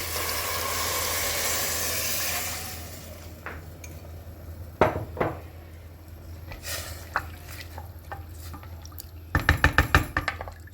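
Water pours steadily into a pressure cooker for a couple of seconds while making Turkish red lentil soup, followed by scattered metallic clinks and taps of kitchenware.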